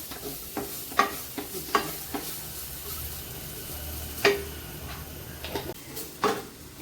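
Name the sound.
roasting crushed coconut in a pan for ginger curry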